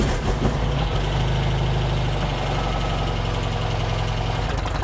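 A Porsche 356C engine idles while warming up, a steady, close, loud low rumble with an even rhythmic pulse and no voices.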